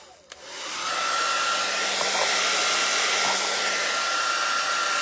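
A hair dryer drying painted stencil stars on a Memorial Day craft project switches on after a click and settles into a loud, steady whooshing blow with a constant motor whine, close by and alone.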